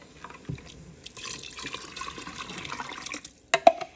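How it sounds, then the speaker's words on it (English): Beef broth pours into a pot of American goulash on a home stove, a steady liquid splashing and trickling for a few seconds with no talk, ending in a couple of sharp clinks. "And then we're going to add our beef broth to that."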